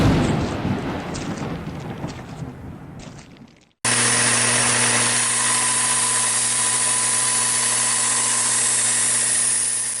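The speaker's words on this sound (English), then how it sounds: "Tried to get the angle on the slack grinder just right" A slack belt grinder runs at a steady, loud hum with a constant whine after a stretch of rustling shop noise, and the motor starts abruptly partway through.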